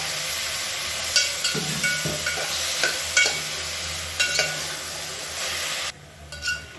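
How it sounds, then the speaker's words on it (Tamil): Radish sautéing in hot oil in a pan for sambar, with a steady sizzle broken by intermittent scraping and stirring strokes of a utensil, close and moderately loud, and the sizzle drops away near the end. "இதில் வந்து முள்ளங்கி நல்லா வதங்கிடுச்சு."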